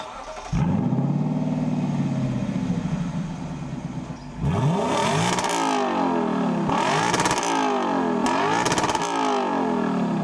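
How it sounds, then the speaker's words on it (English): A 2023 Lexus LC500's exhaust idles with a deep burble, then roars through several sharp, loud revs that swell and drop back, heard close and alone without speech. "the bottom though is an amazing exhaust. Just check out how this thing sounds."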